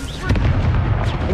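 A Confringo fire-blast spell in Hogwarts Legacy combat goes off as a heavy, booming burst, with a second crack about a second later over a dense rumble of battle noise.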